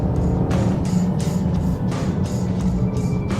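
A 2016 Volvo XC90 T6 pulls hard from inside the cabin, a steady engine roar and road rumble rising as it gains speed, with a few brief ticking sounds on top and nobody talking.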